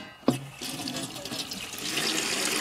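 Tap water runs over beef spine bones in a sink, preceded by a brief knock, then a steady close splashing and gurgling that grows fuller as the flow continues.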